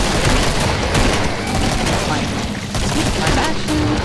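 Dense, continuous video game gunfire, loud and close, rapid shots blurring into a steady barrage with a voice talking underneath.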